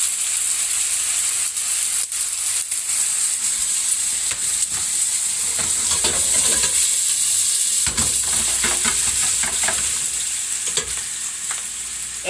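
Vegetables tipped into a hot pot with garlic set off a loud, steady sizzle that holds for the whole stretch, broken by scattered clatters and stirring scrapes, with no talking.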